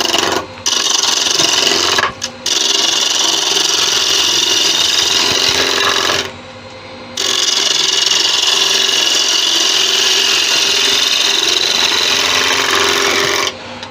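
A wooden piece spins on a wood lathe while a tool shapes it, a loud continuous rasping and scraping close up, with a few brief breaks and one longer dip in the middle.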